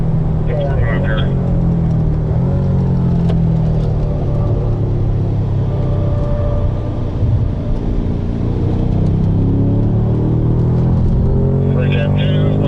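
BMW M car driven hard on a track at an M School session, a loud, steady engine drone and road rumble throughout, nearby and continuous, with a person talking over it.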